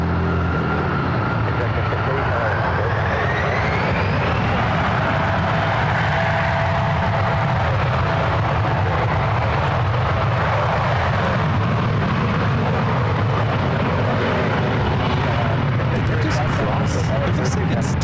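A JetBlue airliner arriving from JFK lands at SFO, a loud, continuous broadband jet roar that swells and slowly shifts in pitch, dominating the scene with voices faint beneath it.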